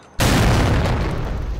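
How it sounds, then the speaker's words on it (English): A grenade shot with an RPG blows up in GTA 4, a sudden loud, close boom that cuts in from near-silence and rolls on as a sustained, dense rumble to the end. "You drop a grenade, right? And then you shoot the grenade with an RPG."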